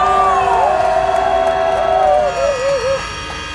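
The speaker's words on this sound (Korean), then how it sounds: "박수 주십시오." Candlelight rally crowd cheering and whooping, loud sustained shouts with rising and falling voices for a few seconds, easing slightly toward the end.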